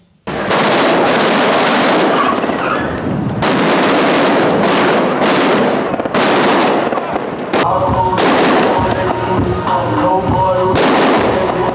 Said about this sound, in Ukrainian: постріли, вибухи, гуркіт важкої техніки та маневри автомобілів.